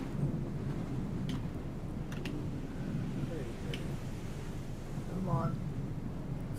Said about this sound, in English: So windy.